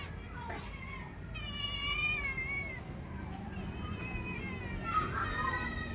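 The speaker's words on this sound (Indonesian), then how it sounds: "Tuh ada kucing." A cat meows several times outdoors during a casual walk, the wavering cries clear and fairly close over steady background noise and traffic-like rumble.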